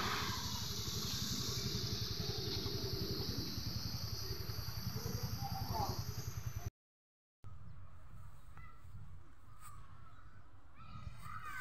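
A motor runs a ride at a city people's park as a steady, pulsing engine drone with a rapid chugging rhythm. It continues to a brief cut, then returns fainter under outdoor ambience.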